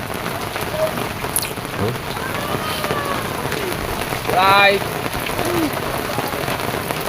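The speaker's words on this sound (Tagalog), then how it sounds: "Lakas ng ulan" Heavy rain pours steadily on surfaces outdoors, a dense, close hiss that stays constant, with a few faint calls and a brief word of talk over it.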